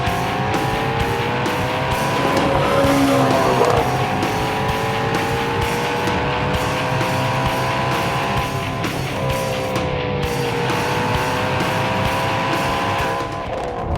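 A Ford Shelby GT350 with its high-revving naturally aspirated V8 climbs through the gears on track, rising engine notes repeating as it upshifts, with tire squeal and a loud, close, continuous roar.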